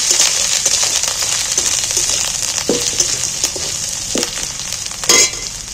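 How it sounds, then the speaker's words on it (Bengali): Garlic paste frying in hot oil in a pan, a steady close sizzle with occasional scraping strokes of a spatula stirring it, and a louder scrape near the end. "রসুনটাকে প্রথমেই একটু তেলেতে নেড়ে নিই।"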